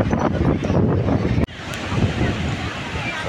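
Morning sea waves and strong wind on Digha beach, a steady roaring wash of surf with heavy microphone buffeting, briefly cutting out midway before resuming.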